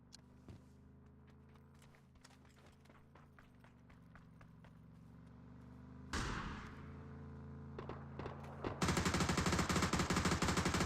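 Rapid bursts of PUBG gunfire crackle throughout, growing denser and louder toward the end into sustained automatic fire.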